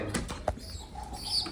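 Pigeon chick flapping its wings while flying indoors, a close flurry of wing beats with a sharp flap midway and faint coos and chirps around it.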